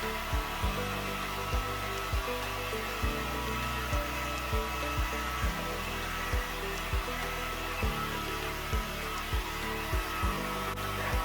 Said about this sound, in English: blow dry back in the desired direction using the brush, just to make sure that everything's facing the correct direction